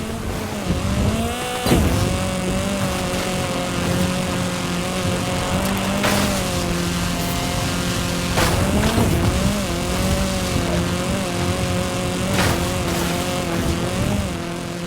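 A Hoonigan RS200 rally car races in a video game, its engine droning steadily with repeated revving surges and gear-change dips, loud and continuous throughout, with no talking.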